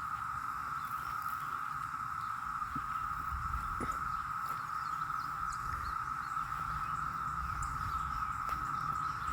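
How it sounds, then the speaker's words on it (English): Cicadas drone in trees outdoors, a steady, unbroken high buzz that stays even and fairly distant throughout, with faint background rustles and no talk. "That noise you hear, that's them cicada bugs."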